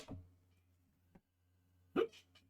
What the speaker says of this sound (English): I just got the hiccups now.